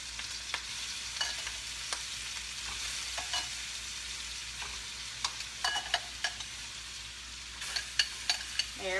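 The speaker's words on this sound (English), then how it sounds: "I'm just gonna add them to this pan of butter and olive oil." Shrimp frying in a pan of butter and olive oil make a steady, close sizzle, broken by frequent clicks and taps of a utensil stirring them.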